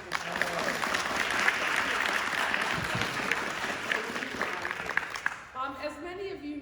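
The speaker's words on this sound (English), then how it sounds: "Can we give him a round of applause?" An audience at a commemoration event for the 50th anniversary of US–China ping-pong diplomacy applauds: steady, dense clapping for about five seconds, then fading out as a voice begins talking at the end.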